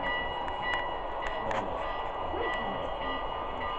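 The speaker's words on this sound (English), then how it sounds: "There's another train coming." A small HO-scale model train rumbling steadily along a track with rhythmic clicks and a faint high whine, fairly close and continuous.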